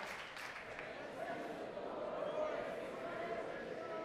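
A church congregation claps together during a sermon, a soft, distant wash of many hands that swells slightly midway and holds steady, with faint room murmur underneath.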